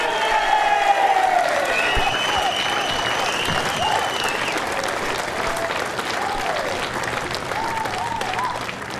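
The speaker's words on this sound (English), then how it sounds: "keep your applause going for the 2015 Australian Open Blue Ribbon Men's Singles Champion, Aaron Teys." Sustained audience applause for the 2015 Australian Open lawn bowls men's singles champion, a dense steady roar of clapping with crowd murmur and a few faint whistles and calls, loud and continuous throughout.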